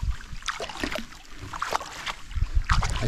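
A solo canoe glides across a lake in Temagami with soft, irregular paddle splashes and water swirling around the hull, set against a low rumble of wind and open outdoor ambience, with no voices.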